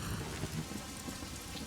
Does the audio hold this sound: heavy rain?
yes